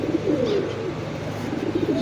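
High-flyer pigeons coo softly in low, repeated rolling calls, several overlapping at close range, with a faint background hum and no talking.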